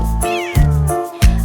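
A cat gives three short, clear meows spaced about half a second apart, close and loud, over a sustained children's song backing.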